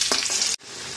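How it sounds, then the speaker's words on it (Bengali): Potatoes frying in oil: a brisk sizzle with a couple of stirring clatters, cut off abruptly partway and then resuming as a quieter, steady crackle. "আর এদিকে আলুটাও ভেজে নিচ্ছি।"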